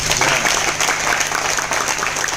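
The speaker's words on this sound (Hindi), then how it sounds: "मेरे ग्रेट अपलाइन के लिए एक बार जोरदार तालियां" A crowd at a business training event in an Ahmedabad hotel breaks into loud, steady applause, dense clapping with no talk over it.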